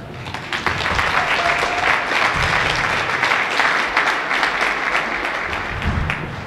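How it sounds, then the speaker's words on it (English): A large crowd at a rally at the Utah State Capitol claps steadily and densely, sustained applause filling the whole stretch without pause. "I just want to give these individuals a big round of applause"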